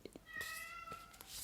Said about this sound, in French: Incroyable mais vrai ce chat.